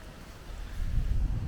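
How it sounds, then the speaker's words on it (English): Strong gusts buffet a handheld camera microphone on an open walk through Page Park in Staple Hill, a continuous low roaring rumble that swells louder toward the end with no voices. "because it's so windy"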